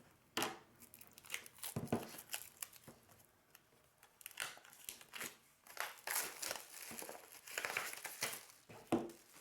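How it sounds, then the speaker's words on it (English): A paper package is torn open in a series of crinkling, rustling bursts that come in irregular clusters, close and fairly quiet, with no talking. "now I'm going to open my package"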